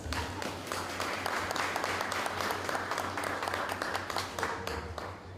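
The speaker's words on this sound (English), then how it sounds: "Applaud yourselves." Sustained applause from an audience at a commissioning ceremony for new justices of the peace, dense steady clapping filling the room at an even level throughout.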